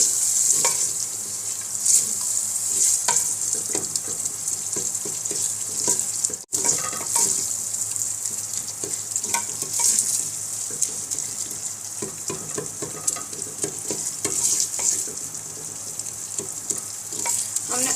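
Mashed potato fries in a pan for Lahori chana, with loud continuous sizzling and frequent scraping stirs, near and without voices.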